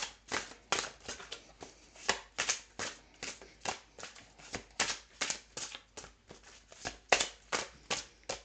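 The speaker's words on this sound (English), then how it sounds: "I can't shuffle and talk at the same time." Tarot cards are shuffled by hand in a quiet room, a rapid series of crisp riffling bursts and soft slaps, close to the microphone and in an irregular rhythm, with no talking.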